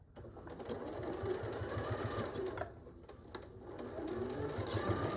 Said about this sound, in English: Let's do a back stitch.